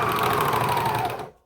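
A serger sews through three layers of fabric while finishing an armband on a lounge top, its fast steady motor whir close and continuous before cutting off abruptly at the end.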